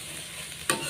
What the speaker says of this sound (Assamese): এয়া দিলোঁ পিঁয়াজ, অকণমান লৰাই লওঁ।